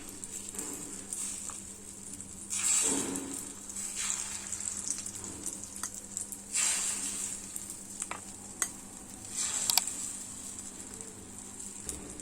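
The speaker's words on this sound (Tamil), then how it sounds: "இந்த முட்டையை எடுத்து ஒவ்வொரு குழியிலையும் கொஞ்சம் கொஞ்சமா ஊத்திடலாங்க" An egg omelette batter is poured little by little into the wells of a hot kuzhi paniyaram pan, giving a steady close sizzle with louder hissing surges as each portion hits the metal and no voices.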